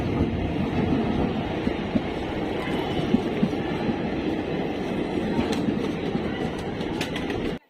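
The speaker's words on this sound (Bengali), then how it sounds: "বলতে বলতে ট্রেনও এসে পড়েছে" A passenger train arriving at Bolpur station rumbles steadily close by, a dense low roar with faint rhythmic clacking, continuous throughout and cutting off abruptly at the end.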